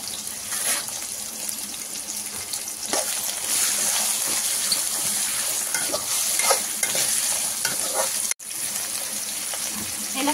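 Green chilies and curry leaves frying in a pan for a bitter gourd and peanut curry, a steady loud sizzle with stirring scrapes throughout and a brief cut near the end.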